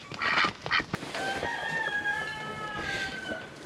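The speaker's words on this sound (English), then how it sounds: "Ducks." Several ducks quack in short bursts on a Florida farm alongside other farm birds calling, fairly close, with a drawn-out crowing-like call in the middle.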